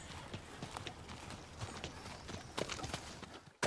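A horse's hooves clip-clop in an irregular walking rhythm, fairly faint at first and growing a little louder as it comes nearer.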